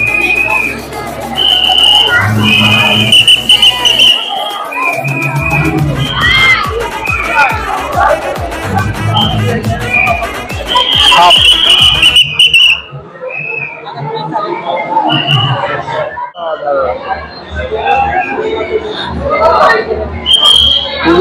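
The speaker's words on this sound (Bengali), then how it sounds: "ভাই সাহেব ভিড় দেখো," A dense crowd mills around the Bharat Chakra Durga Puja pandal in Kolkata, with loud continuous babble, nearby voices, and occasional high whistle-like tones over the festive din.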